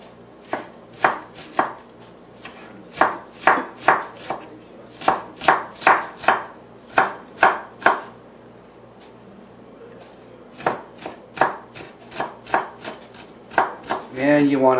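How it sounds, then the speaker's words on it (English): A knife finely chops an onion on a cutting board in quick bursts of sharp, crisp taps, with a short pause partway through before the rhythmic chopping resumes, loud and close. "you want to finely chop this onion"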